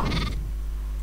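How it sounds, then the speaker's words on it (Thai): A goat in the Minecraft video game lets out one short, nasal bleat at the start, followed by a steady low in-game hum. "แพะอ่าแพะนะ"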